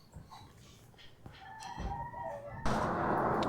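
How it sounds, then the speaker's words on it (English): Chickens clucking and a rooster crowing somewhat distant by a little pond in Baja California, with broadband noise rising toward the end; no one speaks. "chickens clucking in the back"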